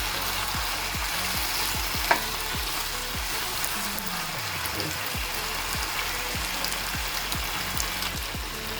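Chicken and vegetables being stirred in a frying pan for a pasta dish: a constant close sizzle with a regular series of soft spatula knocks and scrapes about twice a second, plus one sharp clink.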